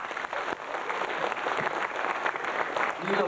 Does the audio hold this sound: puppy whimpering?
no